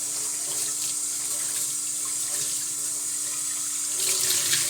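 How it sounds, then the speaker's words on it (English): Water from a kitchen faucet pours steadily over a ceramic-coated nonstick pan being rinsed, a continuous close splashing hiss with a brief surge of heavier splatter near the end. "Rinse this off."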